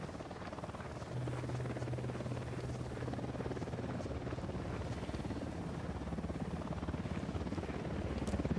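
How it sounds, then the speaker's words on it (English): Helicopter from the video game Ghost Recon Wildlands, a steady droning rotor and engine hum that holds evenly loud for the whole stretch, with no voices over it. "Helicopter incoming."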